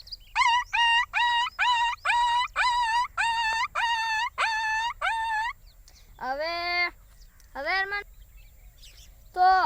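A voice imitates a puppy: a quick run of about ten high, sharp yips, then a pause and a few longer, drawn-out whimpering whines.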